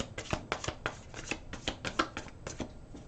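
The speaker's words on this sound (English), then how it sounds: "I'm taking out an angel card for our Libras." Tarot and angel cards shuffled by hand: a quick run of crisp, papery riffles and soft slaps, about a dozen close bursts in an uneven rhythm, with no voice over them.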